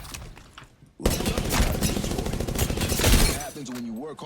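Burst rifle fire in Apex Legends, a loud near run of rapid shots lasting about two and a half seconds, with game sounds and a brief tonal cue trailing after.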